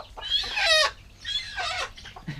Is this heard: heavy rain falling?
no